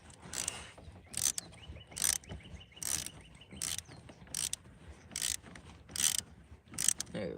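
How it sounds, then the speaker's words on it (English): A wrench tightens a nut while an under-glow kit is installed on a Camaro, giving about eight short, sharp ratcheting bursts in an uneven rhythm, close and fairly quiet, with no talking. "Put our wrench on, tighten."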